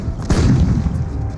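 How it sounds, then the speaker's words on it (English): A heavy, deep boom of World War II artillery fire rolls out loud and close, its rumble lingering and filling the short moment. "It begins with an artillery barrage by 700 Allied guns."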